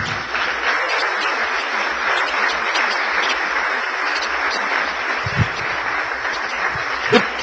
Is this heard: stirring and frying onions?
no